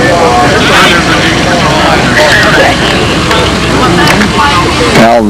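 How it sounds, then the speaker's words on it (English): An airplane at the 2001 Windy Brodak fly-in fills the air with a loud, steady engine drone that rises and falls slightly as it passes, while people talk over it throughout. "Okay, Al's gonna fly, Will's gonna fly something else"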